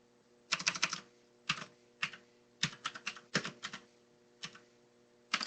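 Close typing on a computer keyboard, quick clusters of key clicks with short pauses, against a steady low electrical hum and no talk.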